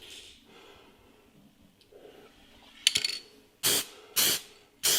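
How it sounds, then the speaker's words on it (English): Three sharp bursts of aerosol spray paint hiss close by onto a Victorian cast iron overmantle fireplace mirror, each about half a second, after a quieter stretch with a brief rattle. "it's a simple process of spraying that on like that"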